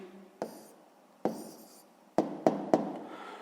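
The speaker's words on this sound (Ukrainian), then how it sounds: "Ну, давайте я тут запишу." Pen strokes on paper as an answer is written out by hand for a sixth-grade maths equation, a few short scratchy taps and scribbles spread apart, close and fairly quiet with no talking.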